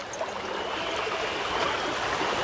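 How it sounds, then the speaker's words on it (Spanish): River water flows steadily near a sawmill in a valley, a constant close rushing and trickling wash with no voices. "Este río, ¿de dónde procede?"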